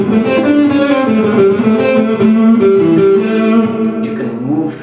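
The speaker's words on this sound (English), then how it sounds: "someone's playing a kind of seventh chord" An electric guitar rings out a sustained seventh chord with rich harmonics, played loud and close with a slight effects coloring, the notes shifting slightly before fading near the end.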